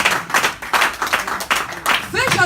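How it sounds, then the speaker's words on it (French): Church congregation clapping in rhythm during a French- and Portuguese-language worship service, steady repeated claps mixed with voices and singing throughout. "Nous applaudissons l'Éternel."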